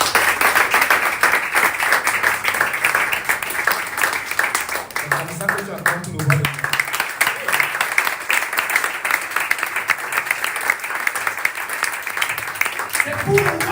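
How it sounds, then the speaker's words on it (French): Worshippers applauding and cheering in praise of the Lord Jesus at a French-language church anointing service, steady broadband clapping and crowd noise throughout, with voices and music mixed underneath. "Acclame pour le Seigneur Jésus."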